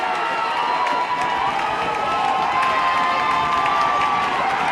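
Football fans in the stands at a high school game roar in steady, continuous cheering that holds loud and dense throughout, a broad crowd wash with no single voice standing out.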